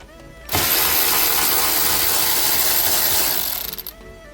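A loud, fast ratcheting of a hand tool loosening T20 Torx bolts on Mini Cooper dashboard vents, starting abruptly and running steadily for about three seconds before tapering off.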